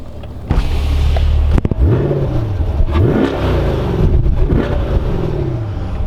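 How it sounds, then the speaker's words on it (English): A 2021 Chevrolet Corvette 3LT V8 with dual mode exhaust revs hard from a steady loud idle, several rising and falling throttle blips, close and alone. "One amazing sounding engine."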